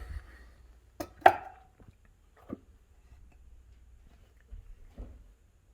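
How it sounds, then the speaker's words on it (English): Cat food bowls and a can of wet cat food are handled in a quiet kitchen: a few sparse, separated clinks and knocks, one sharper ringing clack, then light taps, with near silence between. "He knows the sound of the bowls and the sound of this can from anywhere"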